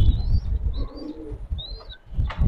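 Pigeons and their red chicks in a loft give soft coos and thin high chirps in short bursts, close by over a low rumbling background.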